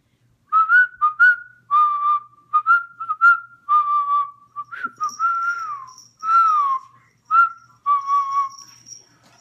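Someone whistles a lively tune up close in quick repeated phrases with short gaps, a faint high tone appearing partway through, and no speech.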